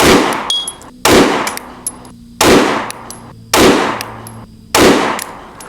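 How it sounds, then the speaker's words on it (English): Five sharp pistol shots fired at roughly one-second intervals, each a loud, close crack with a short ringing decay, from a handgun fitted with a Trijicon RMRcc optic after a side impact on the sight. "just got done shooting a 5-shot group after a side impact on the optic"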